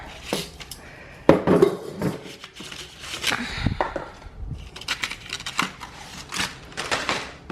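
A new cooking pan is handled and lifted out of its box with its steamer insert, giving close clinks, knocks and rustling packaging in irregular bursts, with no talk.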